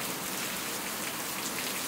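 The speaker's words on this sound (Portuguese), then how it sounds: "Olha o barulho da chuva aí, ó." Heavy rain pours steadily in the rural sertão of Paraíba, a dense continuous hiss of water drumming on surfaces, loud and unbroken throughout with no voices.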